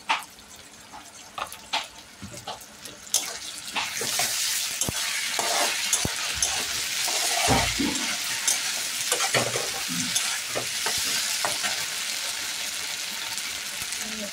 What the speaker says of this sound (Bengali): এখন দিয়ে দেবো আমি আদা রসুন বাটা।